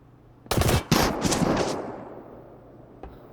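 Gunfire in the Star Citizen video game during a bounty-hunting patrol: a loud, rapid automatic burst followed by a couple more close bursts, then a decaying echo and one faint later shot, with no talk.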